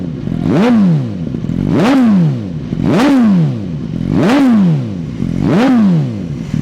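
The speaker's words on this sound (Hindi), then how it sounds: "अभी इस बाइक को स्टार्ट करते हैं, इट्स अ कोल्ड स्टार्ट, और आपको सुनवाते हैं इसका साउंड" A Suzuki GSX-R 1000RR motorcycle fitted with aftermarket parts is started cold. Its engine sound rises and falls in a loud, close, rhythmic cycle that repeats about five times, and no one speaks.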